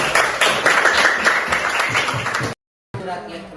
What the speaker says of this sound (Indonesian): berikan tepuk tangan kepada kelompok